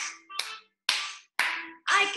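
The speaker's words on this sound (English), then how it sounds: "I can clap my hands." Hands clap at a children's morning circle song, five crisp, evenly spaced claps close by, with a faint voice in the background.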